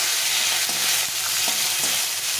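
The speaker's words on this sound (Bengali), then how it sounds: "দিয়ে এটাকে ভালো করে ভেজে নেব" Asafoetida and slit green chillies fry in hot oil, a loud close sizzle with repeated stirring scrapes at a steady rhythm.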